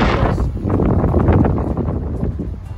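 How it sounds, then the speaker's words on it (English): Strong wind blowing outdoors on a fishing trip, buffeting the microphone with a loud, continuous rumbling roar and gusty rustle that goes on throughout. "It seems like you can always hear windy noises."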